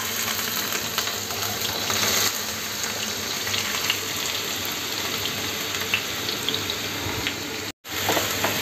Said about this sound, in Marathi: मी पहिल्यांदा कांदा घालते।